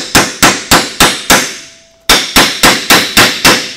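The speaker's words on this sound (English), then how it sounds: "find the best one out of the series and crack it on there and see if she'll come off" Sharp metallic hammer blows drive a Mac Tools extractor socket onto a rounded bolt: five evenly spaced strikes, a brief pause, then six more in a steady rhythm, close and loud with ringing decay.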